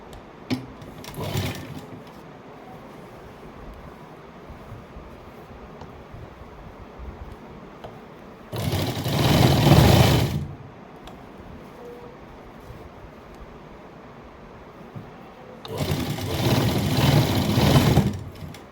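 A sewing machine stitches cloth, firm seam work on a garment, in two short runs of rapid whirring stitching with faint quiet handling in between.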